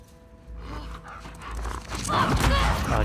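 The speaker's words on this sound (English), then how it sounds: "Doggy." A dog in The Last of Us Part II pants and gives a short bark, close and moderately loud over a low game ambience with footsteps, growing louder toward the end.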